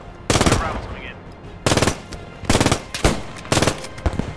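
Machine gun fire in the World War II shooter Squad 44, several short, loud, rapid bursts spaced about a second apart, with faint game ambience between them.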